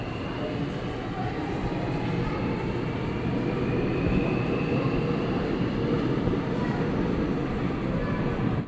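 Seoul subway Line 8 train 829 runs along the track with a loud, steady rumble and hiss that holds for several seconds before ending abruptly.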